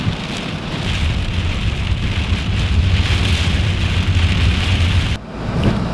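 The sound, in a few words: heavy rain and wind storm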